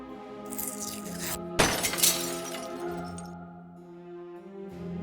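A bird crashes into a stained glass window in the video game Deponia Doomsday: a sudden loud shatter of breaking glass, with shards tinkling briefly afterward over a steady musical backdrop.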